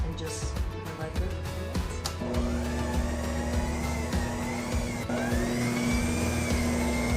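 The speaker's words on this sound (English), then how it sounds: "what we do now is we just set it on knead for 10 minutes is what my recipe says" A stand mixer kneads bread dough on its lowest speed, giving a steady droning motor hum with a sustained whine and rhythmic thumping that carries on without pause.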